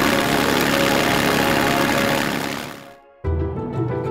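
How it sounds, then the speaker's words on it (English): Rolls-Royce-era Spitfire fighter aircraft engine run on test at full power, a loud dense roar that fades, cuts to near silence briefly, then resumes as a lower rumbling idle. "The engines have to be tested to their design limits."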